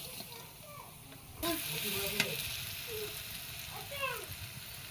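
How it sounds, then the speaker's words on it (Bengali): Sliced onions hit hot oil in a kadai, setting off a sudden broad sizzle that keeps crackling steadily. A voice talks faintly in the background. "এই যে পেঁয়াজ দিয়ে নিচ্ছে কড়াইতে এখন।"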